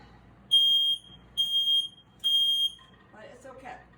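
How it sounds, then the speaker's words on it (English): A smoke detector beeps three times in steady, evenly spaced shrill tones, set off by heat from a small oven while matzah is being baked, followed by a short burst of talk. "that's the smoke detector. It doesn't like the fact that I have stuff so hot"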